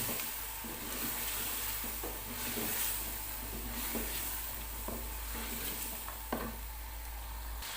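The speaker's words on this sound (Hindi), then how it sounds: "अब हम इन्हें अच्छी तरह से मिक्स करेंगे।" Chicken palao ingredients with cumin masala are stirred and mixed in a pot over a steady sizzle and hiss. Repeated soft scraping strokes come at an even pace, with no talk.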